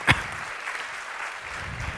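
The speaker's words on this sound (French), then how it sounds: "donc on applaudit" A seminar audience applauds a guest after one sharp thump at the start, then a soft, steady patter of many hands that stays fairly quiet and even to the end.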